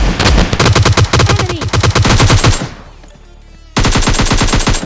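Rapid gunfire from the PUBG Mobile Lite game, a shotgun blast and AKM bursts, loud and dense, breaking briefly into a quieter gap before another fast volley resumes.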